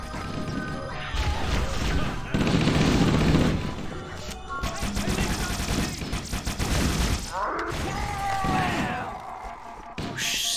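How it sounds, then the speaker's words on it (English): Grenade explosions and bursts of gunfire in Halo: Combat Evolved, with repeated crashing blasts and rattling shots layered densely over one another, loud and chaotic throughout, with faint voices mixed in. "Watch out for those grenades."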